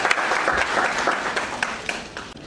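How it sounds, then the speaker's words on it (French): Dense audience applause for Hassane Faye at a youth eloquence contest finale, a steady wash of many hands clapping throughout with occasional sharper claps standing out. "le monsieur mérite vraiment des tonnerres d'acclamation"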